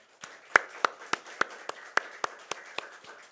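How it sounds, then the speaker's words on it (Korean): A church congregation claps in a steady rhythm for the choir, about a dozen sharp, evenly spaced claps from a small group at moderate distance, with no talking over them. "우리 찬양대에겐 격려의 마음 담아서 크게 박수 한번 할까요"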